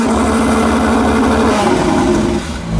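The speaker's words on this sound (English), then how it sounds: "God, all you hear is just turbos." A Porsche Turbo with Boost Logic exhaust idles steadily up close, its deep engine drone and turbo whistle running continuously before dipping slightly near the end.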